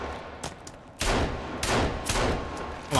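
Repeated shotgun blasts in the survival game Sons of the Forest, a quieter shot followed by several loud, booming reports spaced about half a second to a second apart, close and alone.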